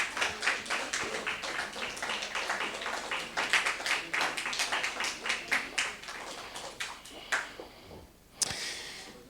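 A crowd applauds with steady, dense clapping that fades out near the end, followed by a sharp tap.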